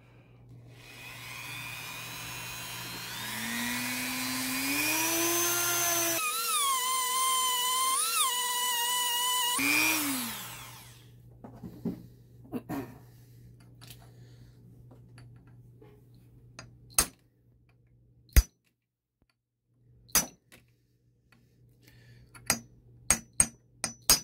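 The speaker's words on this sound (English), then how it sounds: "you're going to grind it and beat on it till you get it out" Grinding on a PPS43c pistol part, a steady high whine for about ten seconds that then cuts off, followed by scattered sharp metallic taps and knocks of hammering on the part, close and unaccompanied by talk.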